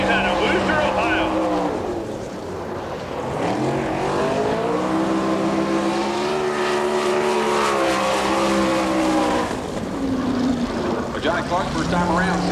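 A sprint car on a dirt track at Woodstock, Georgia, during an All Star Circuit of Champions race roars past with a rising and falling engine note, loud and sustained, while an announcer talks over it.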